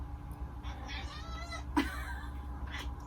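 A cat gives a few soft, drawn-out meows close by, with a sharper cry partway through, over a low background hum.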